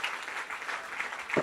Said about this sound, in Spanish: Dame un aplauso a Jesús, el Rey de Reyes